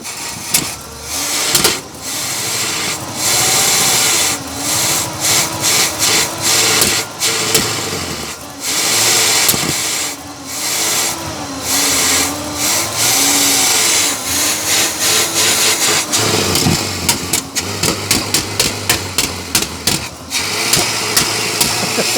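Big-cubic-inch V8 in a 1968 Cadillac hearse with timing needing adjustment, idling loud and close with a low, uneven rumble that stumbles and surges, overlaid by rapid clattering ticks, especially near the end.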